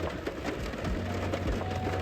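Steady heavy Texas rain falls outdoors around a parked vehicle, a dense continuous hiss with scattered patters and drops striking surfaces, no voices.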